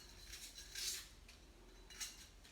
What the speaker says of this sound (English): Okay, I cut the onion in rings.